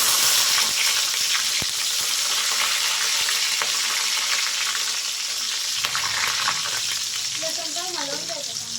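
Garlic dropped into hot oil already crackling with cumin seeds gives a loud, steady sizzle with dense crackle and pops throughout, and a brief stir-like rattle near the end.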